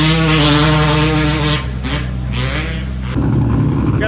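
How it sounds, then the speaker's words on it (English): LS-swapped Miata race cars warm up on the third day of a racing event, a loud, steady engine drone with deep harmonic idle that rises and falls in a brief rev before settling back. "Got the cars warming up for day number 3."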